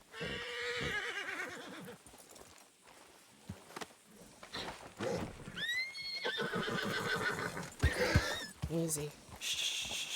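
A horse whinnies loudly in the video game Red Dead Redemption 2, then again amid clip-clopping hooves and snorts, with people talking over the sounds.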